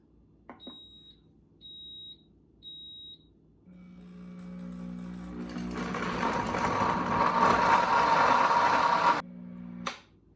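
A heated blender set to its smoothie program sounds three short beeps, then the motor whirs up and roars loudly for several seconds before cutting off abruptly, followed by a final clunk, with no talking.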